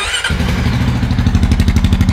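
A Honda motorcycle engine with an aftermarket exhaust starts up and settles into a loud, rhythmic, throaty idle close by, pulsing steadily.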